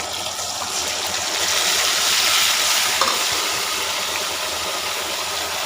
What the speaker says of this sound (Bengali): দিয়ে এই মশলাটা একটু এর সঙ্গে করে কষিয়ে দেবো